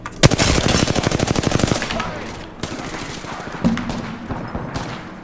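Automatic weapon fire in Apex Legends rips out as a rapid, loud machine-gun burst of evenly spaced shots for about two seconds, followed by quieter scattered impacts and thuds.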